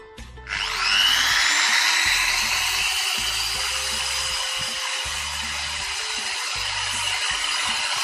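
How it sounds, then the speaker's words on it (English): A drilling machine bores into wood with a wooden toothpick as the bit, a loud steady high whine that starts abruptly and holds for several seconds, with low rumbling beneath. "we have used a toothpick to drill through wood"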